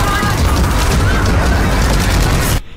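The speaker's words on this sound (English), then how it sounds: "I'm going to stop you at this beautiful explosion here" Explosion and heavy gunfire in a Battlefield 3 trailer, a loud, dense roar of booms and rapid shots that fills the clip, then cuts off abruptly near the end.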